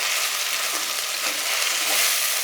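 Ginger garlic paste sizzles in a hot pan while being sautéed for mutton biryani, a steady, bright frying hiss that holds evenly without pause.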